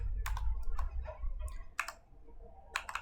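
A name being typed on a computer keyboard, a few quick, close key clicks in small bursts over a low background hum.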